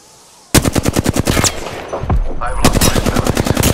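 Automatic weapons in the Apex Legends video game fire loud, close bursts of rapid, evenly spaced shots. A short pause breaks them up before the fire resumes with another sustained burst.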